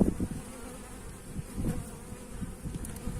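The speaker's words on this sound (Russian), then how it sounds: "Пчелки злые пытаются жалить." Agitated honeybees buzz at an open hive in an apiary, a dense, steady drone close by with a few louder passes as single bees fly near.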